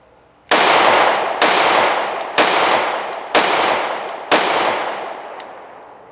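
Five loud, close gunshots from a Glock Model 30 .45 ACP pistol, fired at a steady pace about one second apart, each sharp crack trailing off into a long echoing decay.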